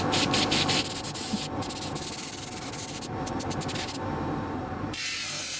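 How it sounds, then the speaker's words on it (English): A disc sander grinds down cured epoxy resin on a Batman and Joker night lamp, giving a close, steady abrasive hiss with brief bursts and changes in pressure throughout. "I'm going to have to go to the disc sander and take it down a little bit until I get the air bubble out"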